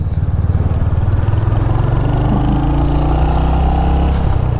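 A 2023 Royal Enfield Hunter 350, a stock single with an old two-valve head, thumps steadily and loudly at cruising speed while being ridden, its low engine pulse and road rumble filling the whole stretch with no talk.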